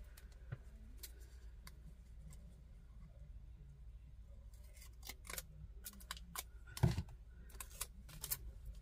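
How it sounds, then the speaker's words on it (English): Scissors snip through paper in short, sharp cuts, faint and close, with irregular pauses between snips while planner pages are trimmed in half. "I'm cutting them in half and putting them back all at the same time."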